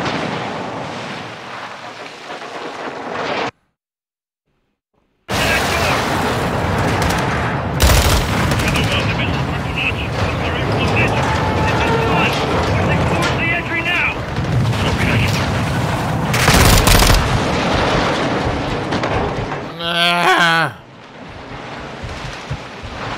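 Gunfire from the video game Modern Warfare 2 rattles on and off over a roaring, wind-like ambience, broken by a brief total silence near the start and a sweeping whoosh near the end.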